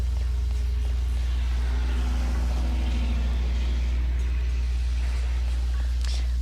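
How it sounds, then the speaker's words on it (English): A very loud truck passes close by, its heavy low engine rumble steady and dominant throughout, with broadband road noise on top and no clear talk. "very loud truck"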